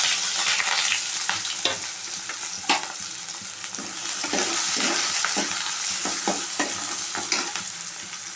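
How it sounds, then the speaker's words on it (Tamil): Sliced onions and green chillies sautéing in hot oil for Bombay chutney, a steady bright sizzle broken by frequent scraping stirs of the spoon against the pan, close up with no voices. "வெங்காயம் நல்லா வதங்குது"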